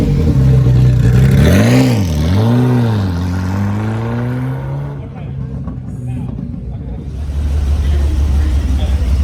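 A Ferrari F40 GT, the road-legal race car version of the F40, revs hard at Salon Prive. The engine note swoops up and down in sharp blips, then settles into a steady idle with voices nearby.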